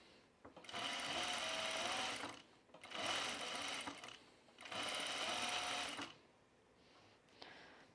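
A sewing machine stitches down a hem on a fabric top in three bursts of fast whirring, each lasting about one to two seconds, with short pauses between. The machine is close and clear, and no one talks.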